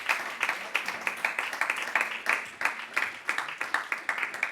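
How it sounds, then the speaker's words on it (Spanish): A church congregation claps during a Sunday worship service, a dense, steady stream of hand claps pulsing in loose rhythmic bursts throughout, fairly close and lively. "Den un aplauso al Señor."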